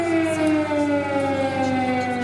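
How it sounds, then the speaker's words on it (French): Air raid sirens wail across Ukrainian cities, a sustained loud tone that slowly falls in pitch, steady and continuous with no talking. "Peu après les mots de Poutine, des sirènes d'alerte aérienne retentissent dans plusieurs villes ukrainiennes."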